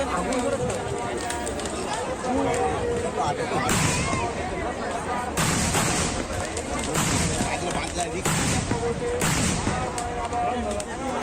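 Fireworks at a Gajan festival, a series of sharp explosive bangs spaced several seconds apart against a dense crowd din, with people talking throughout.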